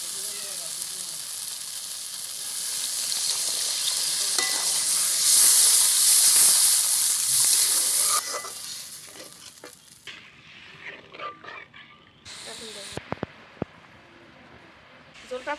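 Water poured onto sizzling fried masala in a pan for koi fish curry, a loud hissing burst of steam that builds then fades into quieter bubbling with a few clinks.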